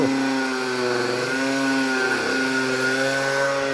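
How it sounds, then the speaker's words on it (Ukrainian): An angle grinder cutting chipboard whines steadily at a high, droning pitch, cutting continuously without pause, loud and close throughout. "пиляє болгарка, диви"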